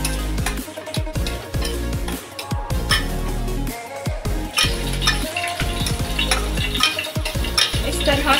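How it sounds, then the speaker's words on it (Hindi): Tomatoes sprinkled with salt fry in a pan with a loud steady sizzle, while a spoon scrapes and stirs them in quick repeated strokes, close and busy, with occasional clinks of metal and no talking. "टोमेटो के ऊपर मैंने यहाँ थोड़ा सा नमक डाला है ताकि टोमेटो जल्दी फ्राई हो जाए"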